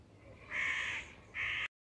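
A crow caws twice outdoors on a rainy day, two loud harsh calls close together, the second cut off abruptly.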